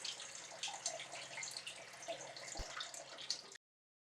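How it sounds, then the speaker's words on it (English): Water from the pump of a wet tile saw runs in a steady, splashing stream, close and quiet, with a brief thump before it cuts off abruptly. "when you press this button, water runs"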